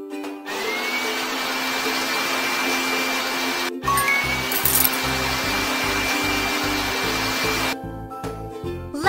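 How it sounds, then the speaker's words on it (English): A vacuum cleaner in a baby-care video game runs with a steady whirring drone, its motor tone shifting as it moves over the floor and carpet, alone with no talking. "Let's vacuum the floor."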